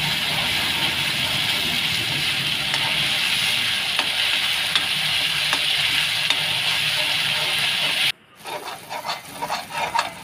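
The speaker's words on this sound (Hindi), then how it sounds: "मसाला हमारा बहुत अच्छे तरीके से देखिए हमने भून लिया है इसे।" Ground masala for a soya chaap curry sizzles and fries steadily in a hot pan, a loud continuous close hiss that briefly cuts out near the end before resuming with stirring scrapes.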